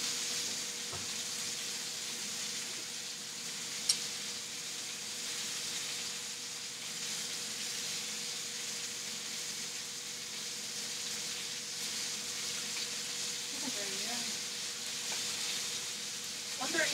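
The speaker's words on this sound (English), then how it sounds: "Alright, we're going to pull the steak out. Beautiful, still sizzling." A ribeye steak and scallops sizzle steadily in a hot pan, giving a constant bright hiss throughout, with a faint clink partway through and a voice talking softly at the end.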